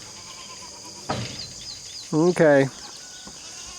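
Goats on a farm bleat twice in quick succession, loud and close, with wavering calls after a brief soft noise and a spoken word, over a steady background hum.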